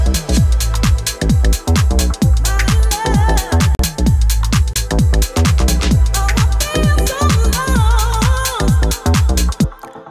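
Electronic drum beat with punchy kicks in a steady groove and hi-hats shaped by LFO modulation for a moving texture, loud, dense and continuous, with synth tones woven through and no talk.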